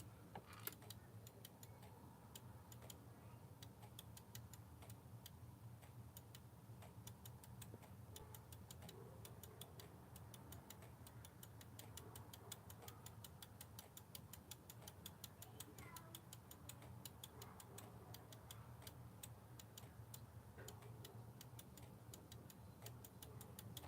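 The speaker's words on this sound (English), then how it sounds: "Can you hear that clicking noise of the relays?" Small electrical relays click in a rapid, steady ticking pattern that runs throughout, close and fairly even, over a constant low hum.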